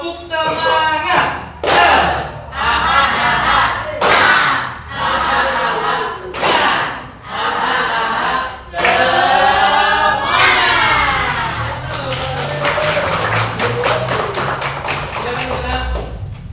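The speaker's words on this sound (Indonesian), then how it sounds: "Kita akan tepuk semangat." A classroom of students claps out a rhythmic spirit-clapping chant, loud bursts of synchronized claps and shouted group voices in repeating phrases, ending in sustained group chanting.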